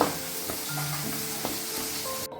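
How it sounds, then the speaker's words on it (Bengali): Turmeric-coated bele fish fry in oil in a pan, giving a soft, steady sizzle with faint scraping stirs and small pops, fairly quiet and close. "এটাকে বেশ কিছুক্ষণ ভেজে নিতে হবে ভালোভাবে, এইভাবে শুকিয়ে নিয়ে ভেজে নিতে হবে"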